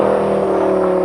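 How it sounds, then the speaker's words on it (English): Twin-turbo Lamborghini LP 560 V10 tuned to 900 hp, holding a steady, loud engine drone with a whirring turbo note throughout, close and continuous with no voices. "A V10 with turbo blow-off noise might be better."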